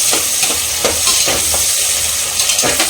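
Onions sauté over a high flame in a pan, a loud continuous hissing sizzle with repeated soft stirring scrapes, close up.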